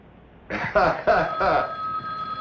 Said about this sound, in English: Get that phone.